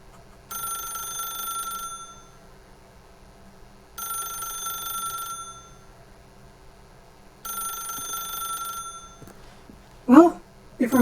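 A telephone rings in The Stanley Parable video game, three loud bursts of a bright electronic bell separated by pauses, then a voice speaks at the end.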